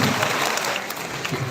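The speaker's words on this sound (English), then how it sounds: "And we can clap finally" Audience clapping at a school chess awareness event, a steady patter of many hands filling the room throughout, fairly close and moderately loud.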